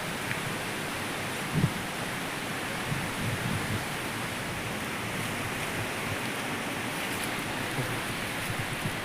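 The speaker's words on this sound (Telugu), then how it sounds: "జల్లు జల్లు పడతానే ఉంది" Light rain drizzles outdoors with a mild breeze, a steady even hiss with no distinct drops standing out.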